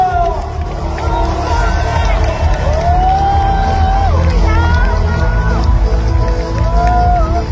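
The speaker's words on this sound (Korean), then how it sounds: "다시 한번 뜨거운 함성과 응원의 박수를 부탁드립니다" A large crowd at a Democratic Party leadership election convention roars with sustained cheering and applause, loud and continuous throughout, with rising whoops and shouts over the dense wash of noise.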